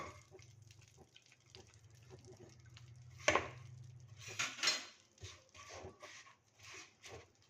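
Jaggery is added to melted ghee in a pan while making puffed rice chikki: a faint low hum, then a couple of soft clanks and scrapes against the pan.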